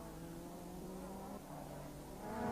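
A Darien racing car with a fiberglass body and 2.5-litre Cosworth engine drones down the main straight at Mondello Park during a 1999 Welsh Championship race. The engine is distant and faint, swelling slightly at the end.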